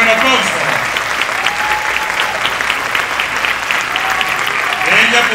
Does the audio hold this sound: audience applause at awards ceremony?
yes